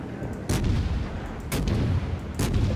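Heavy naval cannon fire from a cruiser in the warship battle game World of Warships, with three deep booming salvos at roughly one-second intervals over a steady rumbling battle background and no one talking.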